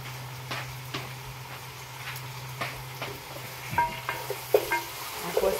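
Pumpkin pinakbet vegetables being stirred in a pot, with a steady simmering hiss broken by scraping and clinking strokes that grow more frequent toward the end.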